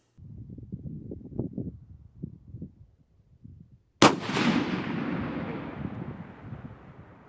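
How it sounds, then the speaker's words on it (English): A custom 300 PRC rifle fires one Hornady 225 grain ELDM factory round at an outdoor range: a single loud sharp blast, then a long rumbling echo that fades slowly after some low handling noise. "I started with some of this Hornady factory ammunition. This is 225 grain ELDM match, and here's how the first shot went down."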